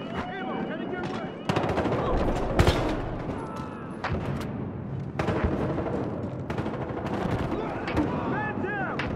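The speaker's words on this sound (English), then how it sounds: "Shot a gun." Gunfire in the video game Battlefield Hardline, a police-versus-criminals shooter: dense bursts of automatic fire and single shots with booming impacts, loud and continuous, with players talking over the fighting.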